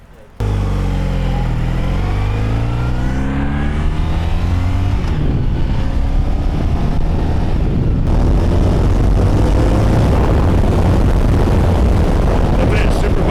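A low-mileage 1986 Honda VF1000R motorcycle on its original stock pipes starts with a sudden loud engine roar, then rides steadily with a smooth, continuous drone that builds as it accelerates.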